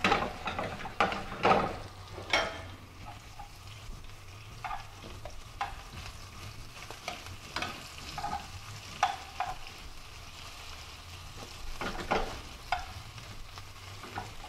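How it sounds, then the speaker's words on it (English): Shrimp frying in olive oil in a hot pan give a soft, steady sizzle, broken by scattered clicks and scrapes of a utensil moving them around, with no voices. "we're going to get our shrimp in the pan"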